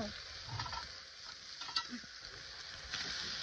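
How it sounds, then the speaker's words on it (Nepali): Masala being stirred into food frying in a pan gives a soft continuous sizzle with quiet scraping strokes, fairly faint and close. "अब मसला हाल्छु म मसला लगाउँछु"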